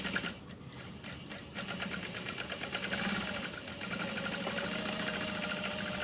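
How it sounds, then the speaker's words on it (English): A sewing machine runs steadily, stitching fabric close to a basting seam with a continuous rapid mechanical whir and rhythmic needle clatter throughout. "So we're just stitching again close to our basting stitch"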